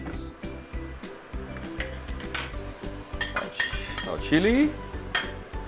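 Metal utensil scraping and clinking in a pan while morning glory is stir-fried with fermented soya beans and garlic oil, repeated quick stirring strokes with a brief spoken remark over them.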